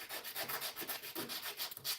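Wood corners being rounded by hand with sandpaper: a steady run of close, rhythmic rubbing strokes, about a dozen in two seconds, with no talking.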